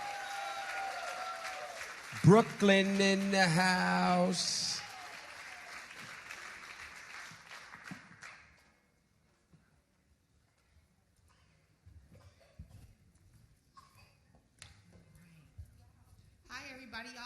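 Audience applause and cheering at a community event against gun violence, loud for a few seconds under an emcee's amplified voice, then fading to quiet room noise with scattered talk.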